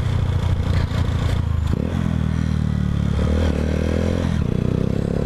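A red Honda motorcycle engine runs loud and close, a steady rough mechanical roar with rising revs and shifting pitch through the clip, no talking over it.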